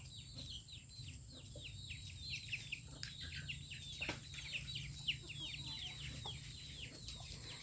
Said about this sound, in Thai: ทั้งเป็ดทั้งไก่